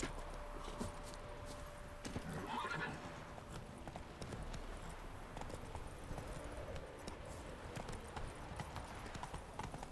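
Hooves of a horse clip-clop steadily in The Witcher 3, a continuous trotting rhythm that runs throughout, with a brief whinny early on.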